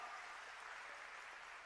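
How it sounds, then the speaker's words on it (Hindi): Steady, dense applause from a crowd at an outdoor water conservation rally in Surat, a continuous even wash of clapping with no pauses or voices. "ये इंटरवल पहले की ताली है थोड़ी कम बजी"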